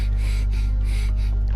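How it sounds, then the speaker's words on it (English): A heavy breathing voice clip from the video game Death end re;Quest plays as four rhythmic, breathy gasps, close and loud over a constant low hum. "I'm starting to find the heavy breathing voice clip annoying"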